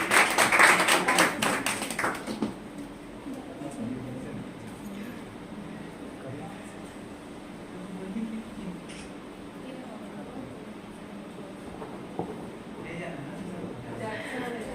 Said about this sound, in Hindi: एक बार जोरदार तालियों से स्वागत कर दीजिए निशा के लिए।